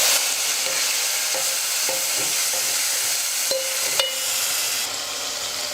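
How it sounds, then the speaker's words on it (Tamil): Chopped tomato fries in hot oil for a Tamil rasam, a loud steady sizzle up close punctuated by regular scrapes and taps of a spoon stirring the pan. "1 தக்காளி பொடியாக நறுக்கி எடுத்து வச்சுருக்கிறேன், அதையும் சேர்த்துக்கிறேன்."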